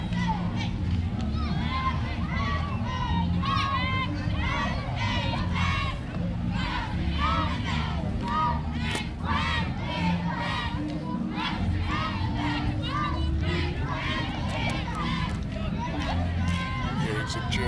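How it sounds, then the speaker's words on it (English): Crowd along a holiday parade route at a Christmas Around the World evening parade cheering and shouting loudly and continuously, with children's shouts and whoops over a dense, steady roar of babble. "Hearing some cheering going on in the background."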